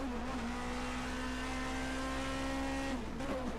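A 1979 DRM Division 2 race car at the Bergischer round, its engine droning at a steady high pitch before dropping sharply as it downshifts into a turn, heard continuously from onboard with no talk.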